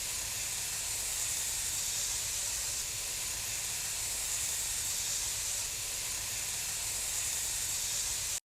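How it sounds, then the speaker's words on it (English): Tomato juice poured into a hot frying pan of food seasoned with fish sauce, giving a loud, steady sizzle and hiss that holds evenly for about eight seconds, then cuts off abruptly. "after it's been frying for a little bit, I'm going to add the tomato juice to it."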